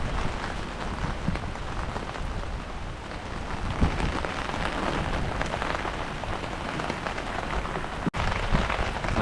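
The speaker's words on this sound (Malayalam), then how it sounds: "ആ സമയത്താണ് പെട്ടെന്ന് മഴ വന്നത്" Sudden rain pours down on Munroe Island, a dense, even hiss of drops striking surfaces close by, continuous and unbroken, with no voices.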